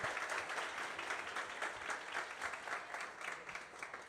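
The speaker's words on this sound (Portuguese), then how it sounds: "Palmas para os dois aqui, gente" Sustained applause from an audience at a football event's closing thanks, dense steady clapping throughout with no pause.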